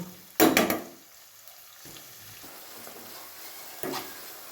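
Hyderabadi chicken is stirred in a cooking pot, with a loud scraping swirl near the start, a quieter one near the end and a low sizzle running underneath.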